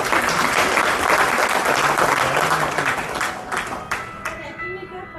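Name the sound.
audience clapping after a couplet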